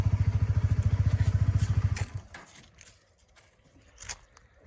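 A Honda CBR 150R motorcycle with about 42,000 km engine idles with a fast, regular thumping putter for about two seconds, then cuts off, leaving faint clicks and rustles.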